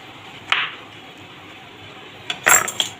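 A knife cutting boiled spiny gourd on a wooden board, two sharp distinct knocks with a clicking scrape, one near the start and a cluster near the end, close and clear over a quiet background.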